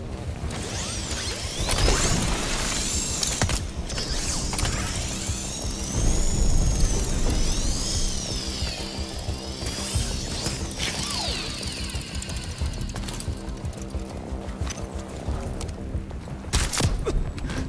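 A Fireline rappel launcher in the Modern Warfare 3 campaign winds up its line with ratcheting mechanical clicks and sweeping whooshes. The sound runs steadily and loudly for the full length among other game noises, with no talk.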